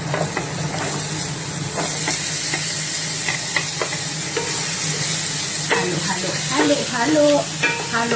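Onions tossed into frying chicken with garlic for spicy Bicol Express, a loud dense sizzle with repeated close scraping and clanking stirs of the spoon against the pan.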